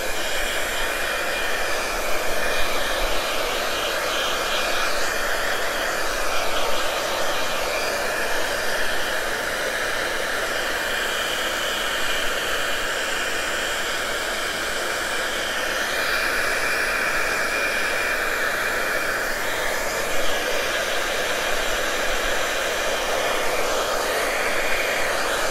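A hair dryer blows continuously at close range, drying paint on a stencil laid over a silver-plated piece, with a steady broadband hiss and roar and no talking.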